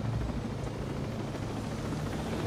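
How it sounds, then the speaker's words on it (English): Helicopter rotor noise in the video game Ghost Recon Breakpoint, a steady, loud, dense whir and throb holding without break for a few seconds, with no voices over it. "then we'll start the chopper"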